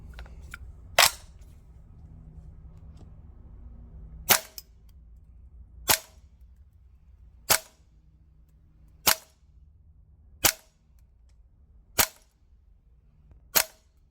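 A VFC MP5K Gen2 gas blowback airsoft gun fires 0.25 g BBs on green gas at a range. Eight sharp, loud single shots ring out, spaced roughly one and a half seconds apart over a quiet background.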